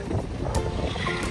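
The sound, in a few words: wind blowing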